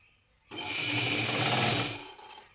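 A sewing machine runs in one continuous burst lasting about a second and a half, with a steady close whirring stitch that swells and then winds down, heard alone without talk.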